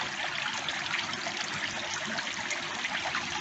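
A backyard garden pond is refilled after a large water change of about 250 gallons, with a steady rushing stream of water splashing in continuously and fairly close.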